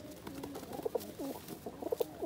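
Kaldom pigeons, a large-bodied flying breed, coo close by in soft repeated throaty phrases, two clear rounds of cooing over a low background hum.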